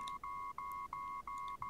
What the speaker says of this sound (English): Hey, you got a phone call.